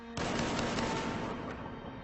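Gunfire erupts during a bank robbery shootout, including a 12-gauge pump shotgun, as a sudden loud blast that rolls into sustained, dense rumbling reverberation lasting almost two seconds.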